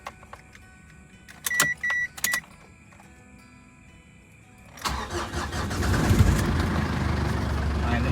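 A Ford Everest SUV sits quietly with a couple of short electronic beeps and some clicks. Then the engine cranks, catches and settles into a steady close idle, with a faint voice in the background.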